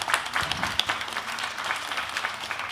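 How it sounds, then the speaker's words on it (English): Audience applause for the authors of an art research paper at an animation conference session, a short burst of scattered clapping filling a room, moderately loud with no talk over it. "Another round of applause for the authors"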